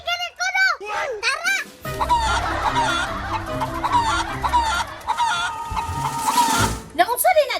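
Chickens cluck and squawk near the microphone amid loud commotion and shouting, with excited voices talking over the birds throughout.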